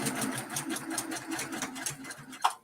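A sewing machine stitches pieced quilt block fabric over a seam, a close, steady rapid needle chatter running throughout with a brief higher click near the end.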